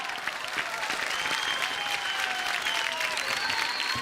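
Audience applause at an antakshari music reality show, a steady wash of clapping from a studio crowd, moderately loud and unbroken throughout with no talk over it.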